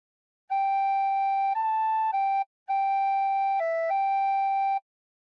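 A clear, pure recorder tone plays a slow, simple hymn tune of sustained notes in two short phrases separated by a brief pause.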